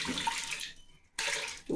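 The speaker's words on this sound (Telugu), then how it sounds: "కొంచెం వాటర్ పోసేయడం" Water pours and splashes into a pot in two short bursts separated by a brief pause, close and fairly quiet.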